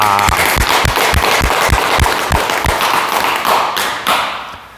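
An audience at a Korean morning dharma talk applauds: dense, loud, sustained clapping with a steady rhythmic thump running under it, easing off slightly toward the end.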